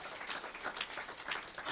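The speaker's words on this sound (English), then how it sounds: "Clap for yourself." Church congregation applauding during a sermon, a steady wash of clapping from many hands at moderate, even loudness with no voices over it.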